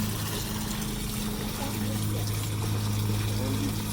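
Water pours steadily over cracked malted brewing grains in a homebrew setup, producing a continuous rushing splash with a low pump-like hum underneath.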